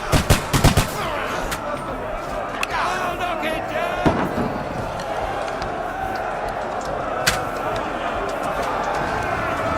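Gunshots in the video game Kingdom Come: Deliverance II, with a loud burst of several sharp shots at the start and a few later single reports amid battle noise and shouting.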